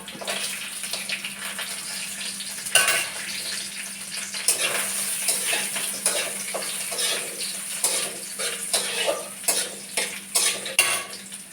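Cumin, ginger and nuts frying in a pan, a continuous soft sizzle with frequent spoon scrapes and clinks against the pan growing sharper toward the end, without speech.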